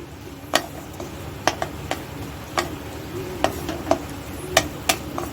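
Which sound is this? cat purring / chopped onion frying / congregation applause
chopped onion frying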